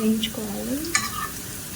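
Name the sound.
kasuri methi frying until brown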